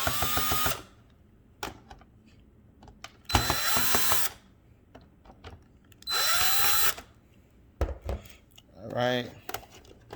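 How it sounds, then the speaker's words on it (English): A power screwdriver removes the screws from an iRobot Roomba cleaning head module in four short whirring bursts, with small clicks and rattling parts in the quiet gaps between them. "You want to unscrew all the 5 screws that's on the back."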